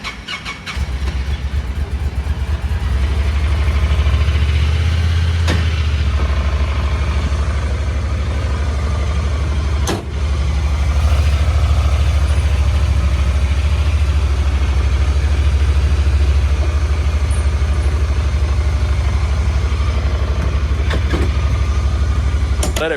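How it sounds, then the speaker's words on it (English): A Honda Pioneer 1000-5 UTV engine runs close by at a steady, loud idle with a deep, even rumble for the whole stretch, with no talking. "We can go ahead and crank the bike up."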